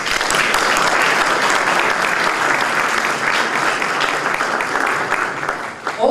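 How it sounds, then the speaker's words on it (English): Applause from an audience at a consulate celebration for Azerbaijan's Republic Day in Los Angeles, with dense, sustained clapping that holds steady for several seconds before tapering off near the end. "Let's give them a round of applause, please."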